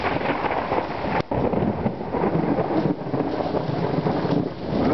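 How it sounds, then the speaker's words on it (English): Thunder rolls after a big lightning strike during an early-morning hail storm, a low rumble beneath steady heavy rain, loud and sustained, with a brief sharp crack early on. "That was a big lightning strike over there"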